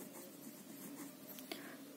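Marker or chalk writing on a board during a primary-school maths lesson, a steady soft scratching texture with a faint tap near the end, no voices.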